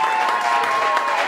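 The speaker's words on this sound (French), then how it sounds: "on applaudit déjà très très fort pour Ousmane." Dense applause from a crowd at a civil wedding, steady and loud throughout, with a faint tonal hum underneath.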